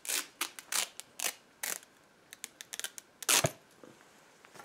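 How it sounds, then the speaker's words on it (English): Hook-and-loop Velcro strips ripped apart in a series of short, sharp tearing bursts of varying length, close up and fairly quiet, with brief pauses between pulls. "Velcro."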